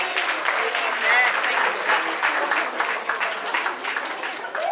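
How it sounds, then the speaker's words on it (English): Sustained applause from a crowd at a golden jubilee celebration as a couple makes their entrance, steady clapping filling the room with a few brief voices mixed in. "A round of applause for them,"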